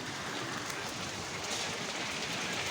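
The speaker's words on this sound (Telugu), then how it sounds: "బయట విపరీతమైన వర్షం స్టార్ట్ అయింది అనమాట" Heavy evening rain falls outdoors, driven by strong wind, as a steady broadband roar with a faint low rumble underneath and no clear voices.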